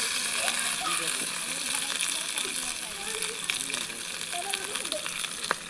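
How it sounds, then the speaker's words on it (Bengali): Small fish on banana leaf set in a hot pan, frying with a steady soft sizzle and occasional crackles throughout. "আমি কলাই পাতায় যে মাছ কটা দিয়েছিলাম সেটা কড়ার উপরে তুলে দিলাম"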